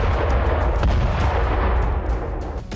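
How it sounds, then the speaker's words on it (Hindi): Explosions and gunfire hit a Russian weapons depot in Kursk during a Ukrainian army strike: dense, loud, rumbling booms and rapid cracks overlap continuously, easing slightly toward the end, with no speech. "कुर्स्क में यूक्रेनी सेना ने रूस के हथियार गोदाम पर धमाके किए।"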